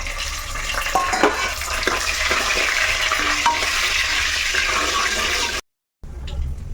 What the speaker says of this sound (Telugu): ధనియాలు మిరియాలు జీలకర్ర ఎండుమిర్చి వేసేస్తున్నాను